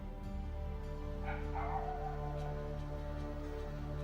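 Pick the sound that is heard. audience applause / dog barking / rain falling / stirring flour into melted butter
dog barking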